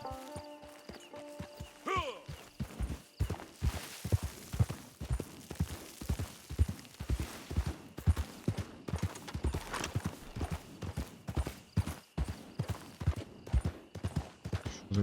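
Horse hooves clip-clop in steady rhythm from Red Dead Redemption 2, a long run of evenly spaced thuds at moderate distance, with a brief whinny near the start and no talk.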